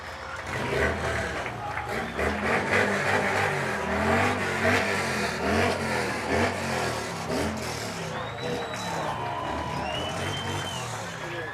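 American Legion Riders District 2 motorcycles circle a high school football stadium track, their engines rumbling and revving steadily with shifting pitch as they pass, over a packed, cheering crowd.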